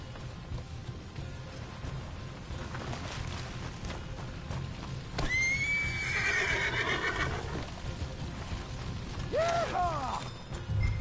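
Horses in the video game Red Dead Redemption 2 let out sharp, high whinnies over a steady low rumble of hooves and creaking, clanking tack, with two clear neighs standing out partway through.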